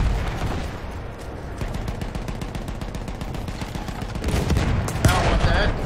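Rapid gunfire from the World War I shooter Battlefield 1, a dense stream of shots and bursts rattling on for several seconds, loud and continuous with a heavier flurry near the end.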